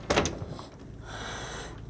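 A sharp knock of a sliding glass door being handled on a 2004 Newmar Essex 4103 Class A diesel motorhome, followed by a smooth rolling slide as it glides along its track, fairly close.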